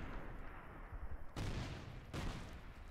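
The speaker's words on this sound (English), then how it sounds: "Ooh, that's a lot of nades being thrown." Grenades go off in an infantry shooter game tournament as two sharp, faint blasts about a second apart over a steady low rumble of distant gunfire.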